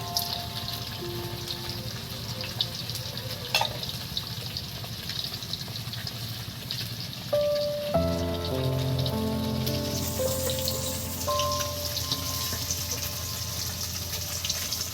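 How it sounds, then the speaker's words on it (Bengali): Tap water runs steadily over fresh curry leaves being rinsed in a home kitchen, a soft continuous splashing with a brief tonal hum and louder, fuller flow in the second half. "কারি পাতাটা প্রথমে ধুয়ে নেব।"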